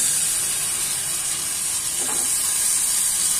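Tomatoes hit a hot pan of frying onions and chana dal while cooking palak chana dal, giving a steady loud hiss and sizzle with no pauses.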